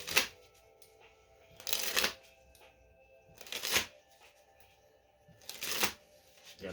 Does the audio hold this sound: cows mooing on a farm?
no